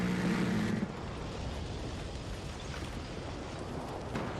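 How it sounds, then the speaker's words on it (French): A large in-game explosion in Battlefield 6 booms at the start, then decays into a dense roaring rumble of debris and battle noise that stays loud throughout. "grosse explosion les gars"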